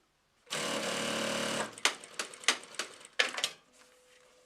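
A Jack H5 walking foot industrial sewing machine runs fast: one long, loud, continuous mechanical whir, then a string of short, sharp stitching bursts before it stops.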